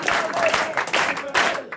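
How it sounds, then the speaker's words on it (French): A studio audience applauds, with a burst of dense clapping and crowd noise. Voices talk over it, with a faint whistle-like tone in places. "Arrêtez d'applaudir, c'est vexant."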